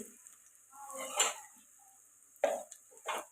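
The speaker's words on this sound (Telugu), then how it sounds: "ఇది బాగా కలుపుకొని 1 నిమిషం పాటు ఫ్రై చేసుకొని" A spoon stirs turmeric, chili and coriander powder with fish curry in a pan, giving soft scraping strokes and a faint frying hiss, punctuated by a couple of sharper metallic taps, quiet and close.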